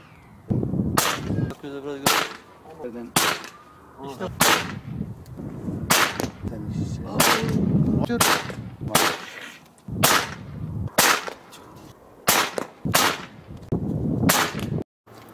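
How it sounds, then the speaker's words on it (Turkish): Rifle shots from a scoped rifle ring out at targets such as a cola bottle, a dozen or so sharp, loud cracks spaced a second or two apart, with brief talk between some of the shots. "Evet, başka bir atıcımızla yeni bir atış denemesi."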